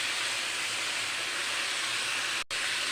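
Ghee added to vegetable khichuri in a hot pot sizzles with a steady, bright hiss that continues evenly, broken by one brief dropout near the end.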